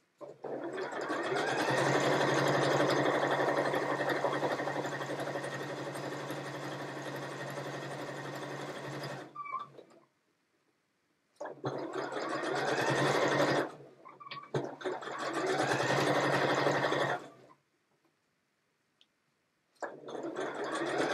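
A sewing machine runs a long continuous stitching burst over a seam, stops, then makes two shorter passes back over it to reinforce, with a brief restart at the end; loud and close, no talk.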